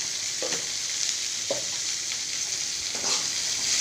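Food sautéing with salt in a home kitchen pan, a steady broad sizzle with a few soft stirring scrapes recurring at intervals, close and continuous throughout.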